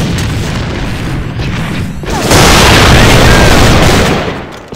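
A grenade goes off in the online shooter game AVA, a loud booming blast that swells midway and hangs on amid bursts of gunfire, with game chatter faintly underneath.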